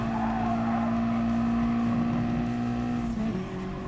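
A race car brakes and then accelerates through a track curve, its engine note holding a steady drone before dropping and shifting near the end, with a faint tire scrub underneath.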